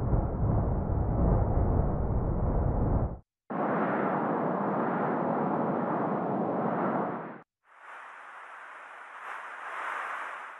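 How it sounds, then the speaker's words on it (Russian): Synthesized wind noise for outdoor forest sound design, heard as three separate sustained broadband rushes with hard cuts between them, the last one thinner and hissier with a faint high band on top. "Вариации шума ветра."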